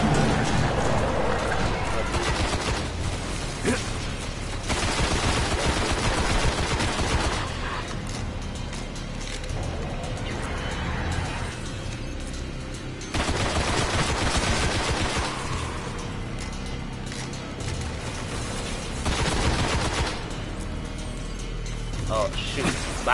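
Continuous weapon fire and mechanical clatter from the video game Destiny, loud and dense throughout in long bursts, with a player's voice over the action.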